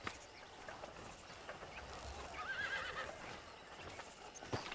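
Wild horses in the Red Dead Redemption video game, a faint whinny in the middle and scattered hoof clops over a quiet outdoor ambience.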